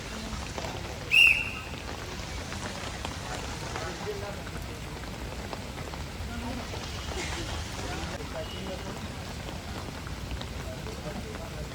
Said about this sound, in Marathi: बघू शकता पाऊस पडतोय